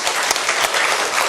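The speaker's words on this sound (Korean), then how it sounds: "한번 박수 한번 쳐주세요" A church congregation applauds during a Sunday service, a dense, loud burst of many people clapping together with a few sharper individual claps standing out, continuous across the whole moment with no talk over it.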